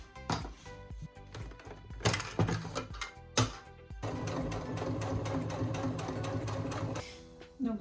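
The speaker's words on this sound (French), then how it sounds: "maintenant je vais pouvoir faire une couture tout le tour sans laisser d'ouverture" A sewing machine stitches a seam around a Halloween costume piece, sounding as short bursts of rapid mechanical whirring. After a few brief stops it settles into one long, steady run.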